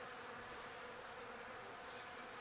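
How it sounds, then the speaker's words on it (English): Honey bees buzz around a hive, a dense continuous drone of many insects, steady and fairly quiet throughout with no voices. "we could have a heck of a lot more bees"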